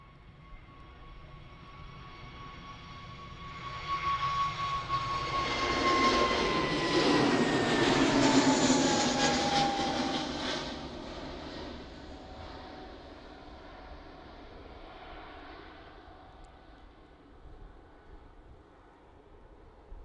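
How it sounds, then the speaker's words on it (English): An EasyJet Airbus A320neo departs Manchester Airport for Charles de Gaulle, its engine roar rising from a distant rumble to a loud, whining swell as it passes close by, then fading back to a low drone. "next departure is our good old friends EasyJet again. A320 Neo, and it's going to Charles de Gaulle."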